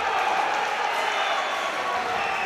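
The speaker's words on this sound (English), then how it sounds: "Crowd imploring Walsh to move on to another level." A boxing arena crowd roars steadily throughout, a dense, loud wash of cheering and shouting as fans urge on the boxer Walsh during a professional bout.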